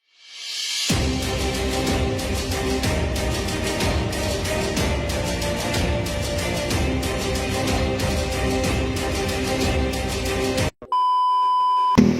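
A timer for a pares eating challenge gives steady repeated beeps in a fast, even rhythm under loud continuous background noise, then a brief gap and a sharper sustained tone at the end.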